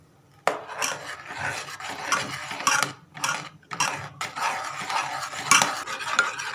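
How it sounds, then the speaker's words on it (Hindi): A spoon stirring custard mixture in a pot for mango custard sharbat, brisk metallic scraping and clinking strokes in uneven bursts, close and fairly loud. "अब इसमें डालेंगे और बराबर इसमें चम्मच हिलाएंगे"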